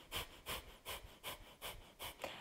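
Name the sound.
rapid short forceful exhalations in breathing exercise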